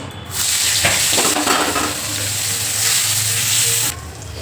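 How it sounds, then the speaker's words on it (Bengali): Bitter gourd and potato pieces, rubbed with salt and turmeric, fry in hot oil in a wok, giving a steady loud sizzle with occasional stirring scrapes throughout, no talking. "উচ্ছে আলু প্রথমে ভাজা করে নেবো"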